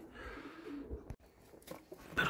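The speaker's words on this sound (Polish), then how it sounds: "Ale wszystkie przyniósł Marcin, to głupie gołębie, to naprawdę." Pigeons cooing at a pigeon catcher's loft, soft repeated low coos under ambient noise across the short stretch, with a brighter call near the end.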